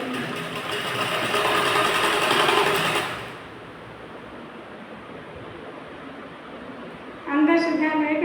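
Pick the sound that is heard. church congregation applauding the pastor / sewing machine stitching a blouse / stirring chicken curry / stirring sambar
sewing machine stitching a blouse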